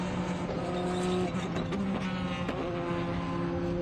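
A prototype race car engine hums and shifts pitch as it passes at a distance on the Portland International Raceway, a steady mechanical whine with no voices.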